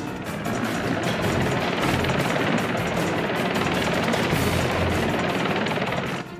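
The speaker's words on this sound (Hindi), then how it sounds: "हेलीकॉप्टर को और ऊपर की तरफ उड़ाओ।" Helicopter in the Chimpoo Simpoo comedy cartoon, a loud, steady rotor drone with a fast chop that holds level and close for several seconds with no talking.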